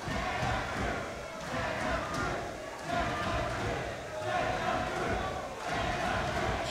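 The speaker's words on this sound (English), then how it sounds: "The fans are going wild in this one." Crowd of fans cheering at a high school wrestling match between Santa Cruz and Aptos, a dense, steady roar of voices filling the gym with loud swells throughout.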